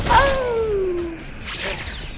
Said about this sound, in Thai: เป็นระเบิดนะฮะยูสเกนเน็ต